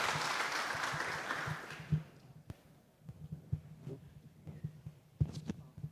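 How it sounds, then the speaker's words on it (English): Conference attendees applaud the keynote speakers in a fairly faint burst of clapping that fades out after about two seconds, leaving a low hum and scattered soft thumps. "Please give an applause to the keynote speakers today."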